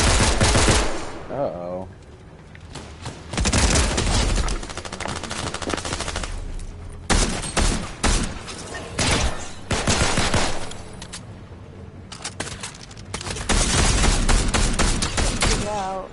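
Loud bursts of automatic gunfire and rapid shots in a Fortnite match crackle in dense volleys with brief lulls, and players talk over the shooting.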